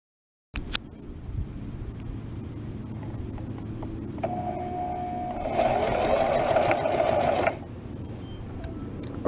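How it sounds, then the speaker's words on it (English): A sewing machine stitches a cushion cover, starting with a steady low hum that builds into a faster, louder mechanical whir for a couple of seconds before easing back, with no voices. "And then start to sew."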